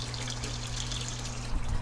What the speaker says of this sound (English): so I've got okay water flow, and it looks very even in both tanks